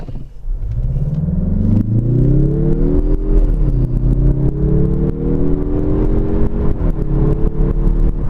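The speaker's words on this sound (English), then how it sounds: "I'm going to accelerate from a standstill, full throttle." 2021 Mazda 3 2.5 Turbo hatchback pulling away from a standstill at full throttle in normal automatic mode, engine drone rising steadily with pitch drops at each upshift, loud and continuous from inside the cabin.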